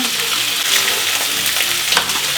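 Lamb shanks and shoulder sear in a hot pan, with a loud, steady sizzle of fat and a few scrapes and turns of the meat close by.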